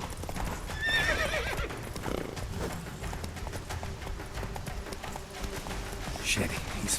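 Roach the horse gallops and neighs in Witcher 3, a loud whinny early on over rapid pounding hoofbeats, with voices talking over the chase.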